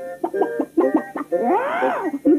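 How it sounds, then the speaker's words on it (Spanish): A hen clucks in a toy farm commercial: a string of loud, close, choppy clucks, then a drawn-out rising and falling squawk, then one more cluck. "¡Ahí va una gallina!"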